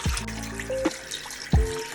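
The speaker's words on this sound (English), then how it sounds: "Put water, let them harden." Water is poured into a bath used for hardening twisted candles, heard as a few brief splashy pours and trickles at close range, with quiet pauses between them.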